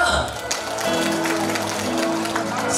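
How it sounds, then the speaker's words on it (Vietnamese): Wedding guests applaud the groom's parents at a family ceremony: a steady, moderately loud round of clapping over a sustained musical tone and background voices. "đón nhận những tràng vỗ tay nồng hậu của toàn thể"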